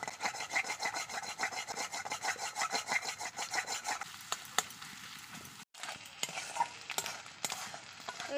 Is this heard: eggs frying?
yes